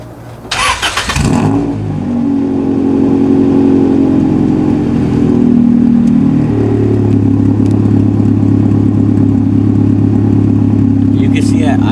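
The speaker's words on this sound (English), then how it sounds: "what we're gonna do is let the car idle real quick" A car fitted with an exhaust baffle to cut drone fires up with a brief burst, then settles into a steady, low, even idle that stays loud and close throughout.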